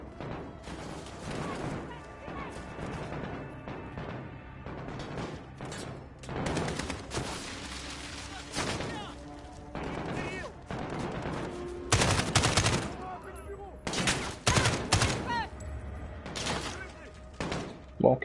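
Gunfire in the Call of Duty Modern Warfare video game, with rapid automatic bursts and single shots repeating throughout, while someone talks quietly in French over the action.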